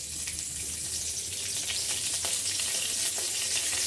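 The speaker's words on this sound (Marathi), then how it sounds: "तेलाची जी पळी असते ती अर्धा चमचा घ्यायची आहे। कढीपत्ता यामध्ये परतून घ्यायचा आहे।" Curry leaves fry in half a ladle of oil for a dry chutney, making a dense, bright crackling sizzle that holds steady and close throughout, with nothing else heard.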